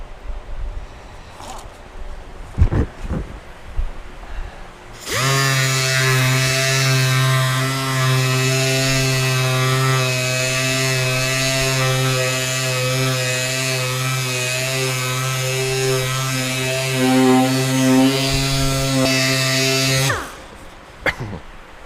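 A power sander with 80 grit runs against a car's clearcoat in one loud, continuous buzzing pass of about fifteen seconds, framed by quieter handling clicks before and after.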